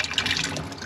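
Water gushing out of a water heater tank drain, a steady, loud hissing flow with no breaks, close by and alone without speech.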